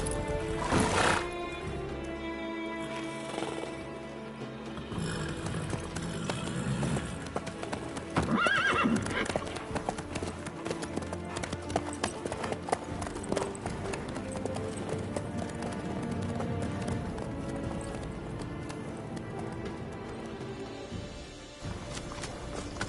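Horse hooves clip-clop at a steady walking pace in The Witcher 3 on PS5, with occasional snorts and a whinny over game music and ambient sound.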